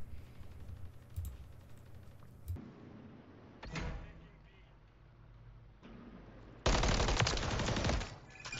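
Gunfire in Call of Duty: Modern Warfare III ranked play on the Departures map comes as two harsh bursts, a short crack midway and a louder sustained volley near the end, separated by quieter in-game ambience.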